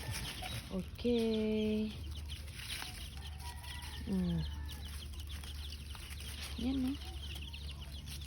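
Backyard chickens clucking and calling nearby, several distinct drawn-out squawks and clucks spaced across the stretch, with a brief spoken word from a person between them.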